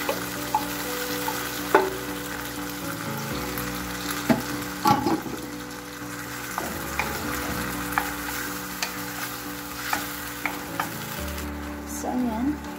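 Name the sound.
sardines added to sautéing mung bean dish in pan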